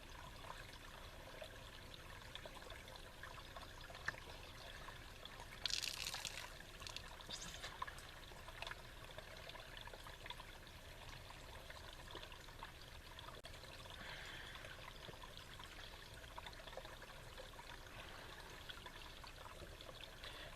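Snowmelt river water flows in the mountains near Malans Peak, Ogden, Utah, as a faint, steady trickling stream with a brief louder splash partway through.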